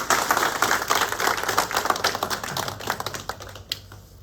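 Guests at a Paris debate dinner applaud, a dense patter of individual claps that thins out and grows more sparse toward the end, heard at moderate distance with no talk.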